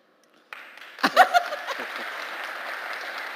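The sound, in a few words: audience applause at conference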